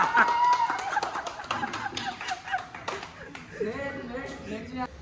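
A small group claps together in a festive home setting, short bursts of hand claps mixed with chuckles and voices talking over them.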